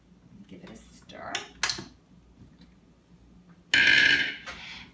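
A spoon stirs butternut squash risotto in a pot, giving a few scattered scrapes and clinks followed by a louder, longer burst of scraping near the end.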